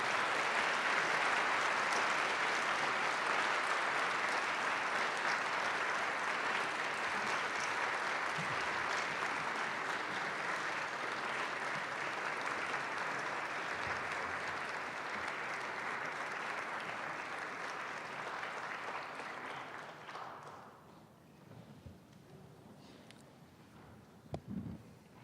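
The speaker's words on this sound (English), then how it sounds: "give a round of applause for the families, friends, and extended and associates" A large audience at a medical school white coat ceremony applauds in a long, dense wash of clapping that holds steady for about twenty seconds before thinning out and fading to a few scattered claps.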